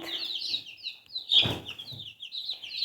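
Young chicks in a mobile coop chirp with high, thin peeps in quick bursts, with a soft rustling thump in the middle, close by and fairly quiet.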